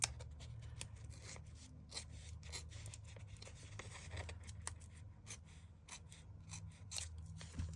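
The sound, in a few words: scissors trimming a book page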